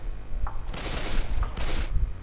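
Two bursts of rapid gunfire ring out in the Left 4 Dead 2 zombie shooter, each a dense rattling volley lasting about half a second. Both are loud, with a short gap between them.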